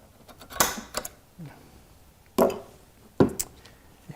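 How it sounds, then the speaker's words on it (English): Sharp metallic snaps from an automatic centering punch staking a motorcycle carburetor, a few separate clicks spaced about a second apart, close and distinct over a quiet workshop background. "So get a punch or an automatic centering punch, whatever you got."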